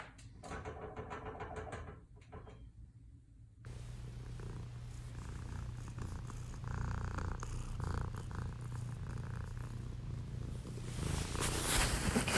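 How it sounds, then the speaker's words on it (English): A domestic orange cat purrs close by in a steady, continuous rumble that runs the full length without pause, loud and near with no voices over it. "Cat."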